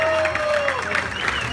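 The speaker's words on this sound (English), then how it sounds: "let's give a round of applause to the guys from Plumes of Hazard" A live crowd at a vaping podcast event applauds and cheers the Plumes of Hazard hosts, a steady, full burst of clapping with voices mixed in.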